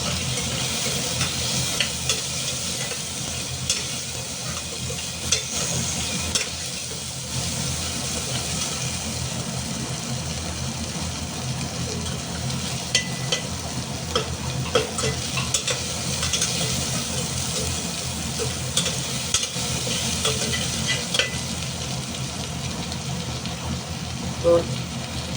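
Tomatoes fry loudly in a hot pan while being stirred, a continuous dense sizzle with scraping from the spoon, while a voice speaks intermittently over it.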